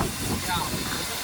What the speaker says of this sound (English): Yeah. Steam engine.